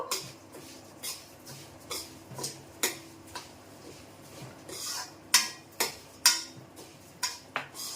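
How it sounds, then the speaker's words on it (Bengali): A spoon stirs chili powder and green chilies into Gujarati khichdi in a pot, giving a steady run of sharp clinks and scrapes against the metal, some louder than others, with no voices. "নাড়া দিতে থাকবো।"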